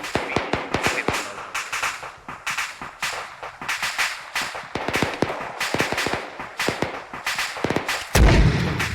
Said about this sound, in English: I want to send mortars out